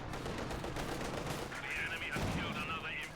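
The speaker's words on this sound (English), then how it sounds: "great shot there from the Stug" A StuG III G assault gun fires in Company of Heroes 2, a sharp cannon blast followed by rumbling battle noise and scattered gunfire in the distance.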